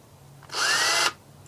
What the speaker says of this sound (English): we're going to be drilling at a 45-degree angle, just like so